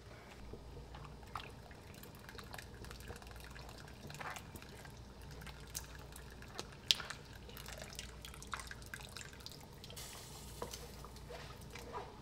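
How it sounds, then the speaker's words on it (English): A pot of tomato pizza sauce made from fresh tomatoes is stirred to keep it from scorching on the bottom, giving faint, soft scraping and wet sloshing with a few light drips and clicks, without any talk. "Give this a stir to make sure it's not scorching on the bottom"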